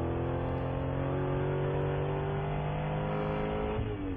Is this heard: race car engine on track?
yes